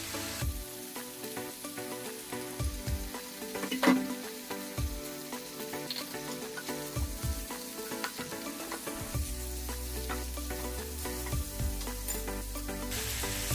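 Washed chicken, about 300 grams, sizzles steadily in hot oil in a pan for Tamil-style pepper chicken, a loud continuous frying crackle with a sharper burst near the start and no talking.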